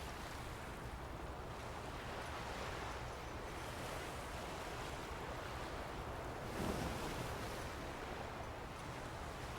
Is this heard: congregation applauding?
no